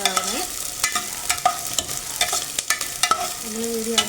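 Coconut pieces and shallots sauté in a hot pan while being stirred, giving a crackling sizzle broken by frequent sharp scraping and clinking of the spoon, with no voices.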